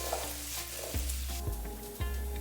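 Diced cubes sizzle steadily in a hot pan over medium-high heat while Huevos Rancheros is being made. The frying hiss is dense and continuous, and low stirring thumps come at regular intervals about every half second.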